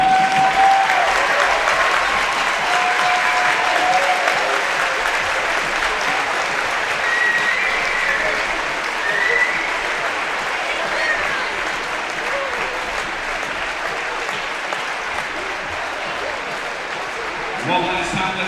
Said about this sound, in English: Please give Mr. Dennis West another big round of applause.